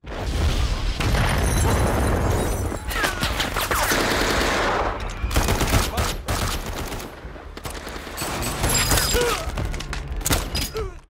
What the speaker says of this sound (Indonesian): Ketika yang lain baku tembak